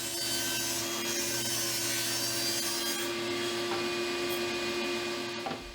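A table saw rips wood stock into 4-inch-wide parts for a portable workbench, its steady motor whine and blade cutting noise loud and continuous before easing off near the end.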